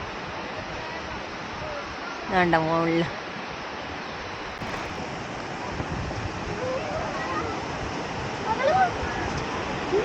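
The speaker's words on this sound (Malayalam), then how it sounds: "ഇവിടെ ഒരു വെള്ളച്ചാട്ടം വീഴുന്നുണ്ട്" Jogini waterfall near Manali and Vashisht, a steady broadband rush of falling water heard from nearby, continuous throughout, with brief voices talking over it.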